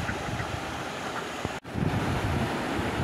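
Water rushes steadily over a small waterfall at a little dammed duck pond near Pokhrad, off the Mukteshwar bypass from Dhari road. The broad, continuous noise breaks off for an instant midway, and no one speaks.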